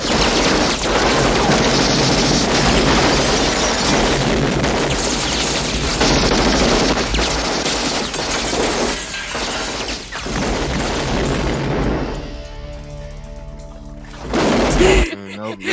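Dense, loud gunfire rips through a house shootout in the 1990 action film Hard To Kill, a near-continuous barrage mixed with crashes and voices that thins out toward the end.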